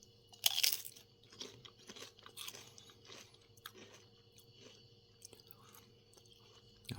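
Lay's crisps from a World Cup 2026 flavour range crunch sharply at the first bite, then soft, close chewing continues quietly and irregularly for several seconds.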